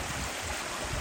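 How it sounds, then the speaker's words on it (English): Steady broadband rush of a stream of flowing water beside a hiking trail near Holcomb Creek, continuous and fairly close with no voices over it. "it's nice to see a lot of flowing water"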